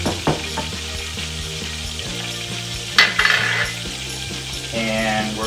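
Thinly pressed garlic hits a hot pan and sizzles loudly and steadily. A clattering, ratchet-like stir cuts in partway through, and a steady hum runs underneath.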